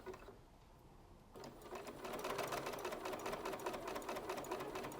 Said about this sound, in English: And sewing right to the edge of the pocket.